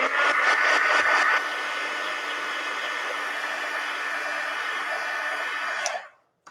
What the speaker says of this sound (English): I'll just hit it with the heat gun to make it go quicker.